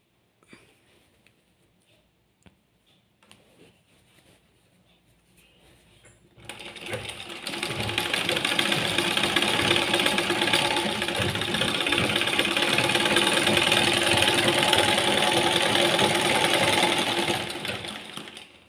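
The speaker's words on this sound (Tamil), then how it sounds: "இப்போது நான் ஸ்ட்ரெயிட்டாக தைச்சிட்டு உங்களுக்கு நான் காட்டுறேன்." Sewing machine stitching a straight seam along an old saree, a steady loud mechanical whir running for about eleven seconds after a quieter stretch of faint handling clicks.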